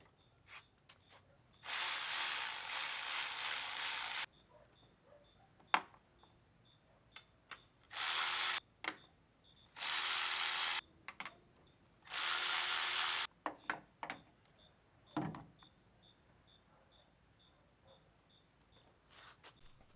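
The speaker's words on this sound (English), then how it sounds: "Before we loosen up the belts, we're gonna loosen up the pulley bolts." A hand ratchet works on the water pump pulley bolts of a 2014 Mustang 3.7, giving several loud bursts of rapid clicking separated by pauses, with small taps and clanks between them.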